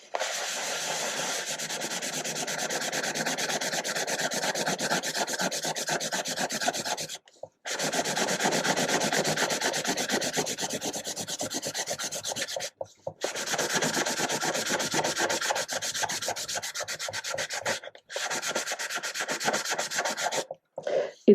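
Used sandpaper rubs briskly back and forth on wood in rapid, even strokes, close and loud, in four long sanding bursts separated by short pauses.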